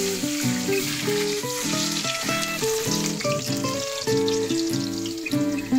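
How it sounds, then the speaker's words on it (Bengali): Potatoes coated with salt and food colour fry gently over low heat in oil left from frying onions for handi mutton biryani, with a soft continuous sizzle under louder background music. "পেঁয়াজ ভাজার তেলেই হালকা আঁচে ভাজুন"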